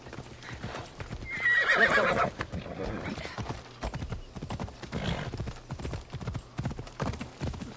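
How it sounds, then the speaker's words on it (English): Horse hooves clip-clop steadily as a rider mounts up and sets off in Assassin's Creed Odyssey, with a whinny early on and someone talking over the hoofbeats throughout. "Now we can get on a horse."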